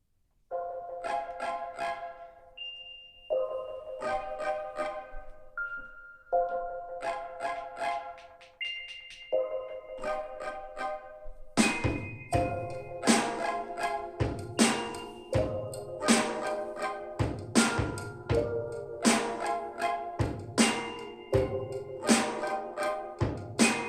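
A Doss SoundBox XL portable speaker plays music at maximum volume, loud and continuous, a melodic opening of tonal notes giving way to a denser, punchier section with strong rhythmic hits partway through.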